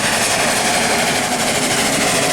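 A Sentinel steam tractor built in 1930 runs hard in an impromptu race at a steam rally, its steady dense mechanical chuff and hiss continuous and close, with no voices.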